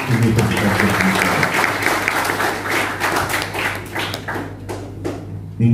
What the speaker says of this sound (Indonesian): Bisa tepuk tangan dulu untuk Universitas Terbuka.